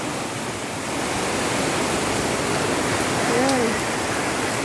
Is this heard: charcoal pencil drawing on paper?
no